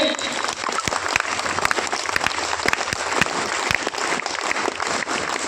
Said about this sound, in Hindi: जोरदार एक बार वीर ताली के साथ सम्मानित करेंगे